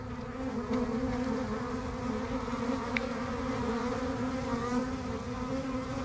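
A dense, steady drone of many honey bees buzzing close by, continuous and unbroken with no voices.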